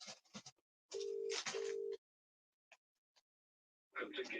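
A phone call ringing out while waiting for someone to answer: two long, steady ring tones in a row, close and clear, with brief speech before and after and a short quiet gap between.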